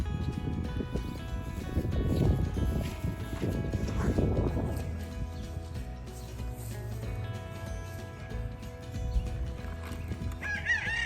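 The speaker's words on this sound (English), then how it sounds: "in addition to the chickens that you can hear" Chickens cluck and a rooster crows at a moderate distance outdoors, with scattered rustling and soft thuds around them.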